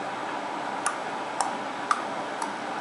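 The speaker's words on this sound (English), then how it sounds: "you can hear the ticking" A clock ticks inside the crocodile in Disney's animated Peter Pan, four faint, evenly spaced ticks over a steady background hiss.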